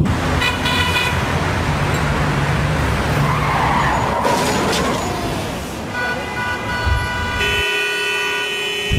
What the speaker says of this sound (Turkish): Şoför tam gaza bastı dönecek ama karşı yönden gelen bir halk otobüsüyle burun buruna geliyor.